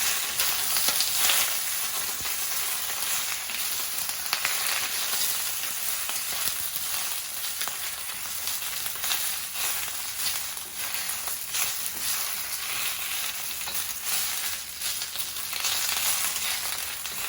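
Garlic and bok choy fry in a hot pan, giving a steady, close sizzle with faint stirring scrapes throughout and no voices.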